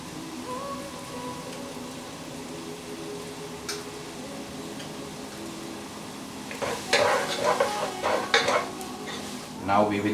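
Tomatoes cooking in a pan with roasted curry powder for a breadfruit beef curry: a steady low sizzle with stirring scrapes and utensil clicks, growing louder and busier toward the end.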